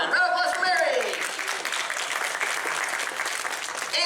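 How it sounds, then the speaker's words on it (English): Audience applause at a fan convention Q&A for a woman named Mary, a dense steady wash of clapping from a crowd, with a voice speaking over the start before the applause carries on alone. "Round of applause for Mary."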